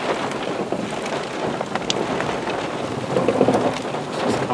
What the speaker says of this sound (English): Man, it has really started raining.